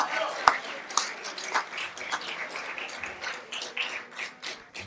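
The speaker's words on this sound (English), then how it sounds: "Give them a big round of applause" Scattered clapping from an audience at a Thursday night jazz salon, a loose patter of claps mixed in with talking voices rather than a full ovation.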